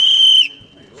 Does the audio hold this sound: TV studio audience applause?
no